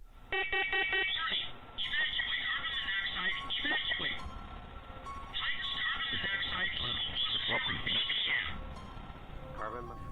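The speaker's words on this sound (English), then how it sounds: "as soon as David starts talking about the smoke alarm again, it goes off on its own for a second time" A household smoke alarm goes off on its own with loud, shrill electronic tones in repeated bursts, broken by short gaps. Voices talk underneath.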